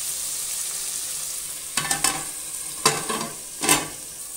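Tomatoes sautéing in a pan for mutton coconut milk curry, a soft low sizzle with three short bursts of spatula stirring and scraping close by.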